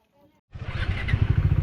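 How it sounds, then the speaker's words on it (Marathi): A motorcycle rides along the Machal hill road near Lanja in Ratnagiri, its engine suddenly loud and close with a steady, pulsing drone after a quiet start. "माचाळवरची धावती बाईक राईड करत आपण माचाळला आलो होतो"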